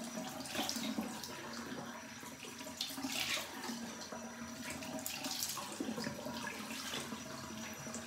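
Hot water runs steadily from a bathroom tap into a sink while someone washes their face, a continuous close splashing hiss lasting throughout with no talk.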